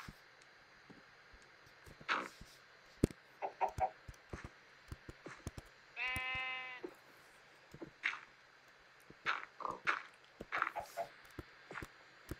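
Chickens in the Minecraft Skyblock video game give short clucks scattered across the stretch, with one longer squawk in the middle, quiet and interspersed with soft clicking taps.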